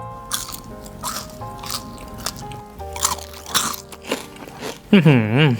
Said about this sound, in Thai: เอาชิ้นนี้แล้วกันเนาะชิ้นเล็กๆเนาะเป็นเผือก เสียงยังแบบยังกรอบอยู่เลยนะครับเพื่อนๆ